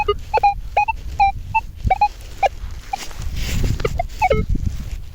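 Minelab Equinox 900 metal detector giving short warbling, grunting signal tones in quick irregular bursts, loud and close, with scuffing and rustling sounds between them.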